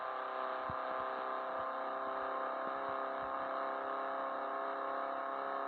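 A car with a broken engine revs in the video game Car Parking Multiplayer, giving a steady, quiet, buzzy whine with no pauses, while faint knocks sit underneath it.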